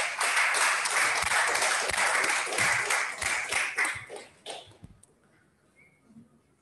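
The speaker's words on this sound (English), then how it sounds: "Please kindly give them a resounding applause." Applause from the audience at a public presentation of an accountability index, with a few individual louder claps standing out; it holds steady and then dies away after about five seconds into near silence.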